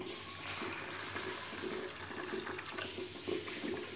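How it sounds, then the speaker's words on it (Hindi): Water poured over 250 grams of washed chana dal for puran poli makes a steady, close-up rushing and splashing sound that holds at an even level throughout. "इसमें हम पानी डालेंगे।"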